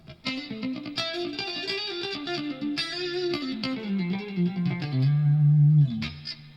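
An electric guitar on a clean channel plays a quick, even phrase through a compressor, notes sustained and smoothed, ending on a held low note before cutting off.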